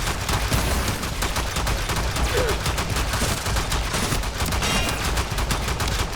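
Rapid-fire weapon shots in a video game crackle in a fast, continuous volley. They stay loud and even throughout, with no talking.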